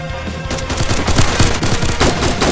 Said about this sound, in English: I headshot Hazzy.